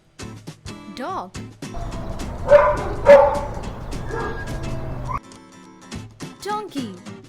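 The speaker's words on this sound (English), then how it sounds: "Dog." A dog gives a run of barks and yips, with whiny, whimpering calls in between. The sounds are fairly close and mixed with rhythmic clicking.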